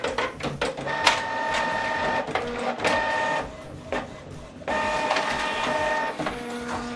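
A printer runs through a single-page job sent from a laptop, its mechanism whirring and clicking in steady bursts with short pauses, close and fairly loud, with no talking.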